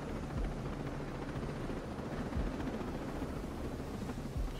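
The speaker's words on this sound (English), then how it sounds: "Just gonna land the helicopter right here" Helicopter in the video game Ghost Recon Breakpoint, a steady broadband rotor and engine roar holding close and loud for the whole stretch, with no voices over it.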